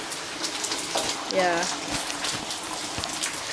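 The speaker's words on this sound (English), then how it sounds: "now it just started pouring" Heavy rain pours steadily in Vancouver, a dense close hiss filling the clip while a voice speaks briefly.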